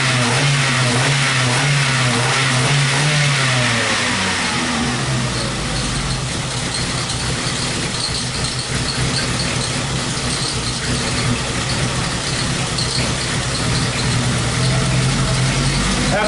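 A Ford Focus engine runs with a slight misfire, idling loud and close with a low uneven hum, then revving up and settling into a rough steady drone with a faint irregular stumble.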